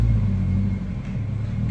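A bright green 1600 GT Ford Mark I Capri sits in a workshop with its engine running, giving a steady, low idling rumble close by and no talk over it.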